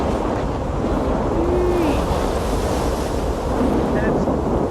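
Roaring tornado wind from an F5 storm in the Life Is Strange video game, a loud, steady broadband rush that stays constant throughout, with faint whistling tones drifting over it.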